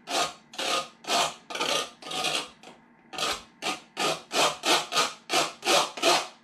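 A butter knife scrapes the inside of a container in a dozen or so loud, close rasping strokes. Each stroke is a short, rough swell, following a steady back-and-forth rhythm with brief pauses and no speech.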